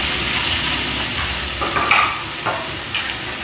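Sliced tomato drops into onions frying for a mutton biryani, setting off a loud close sizzle with a few sharp crackles and stirring scrapes, no voices.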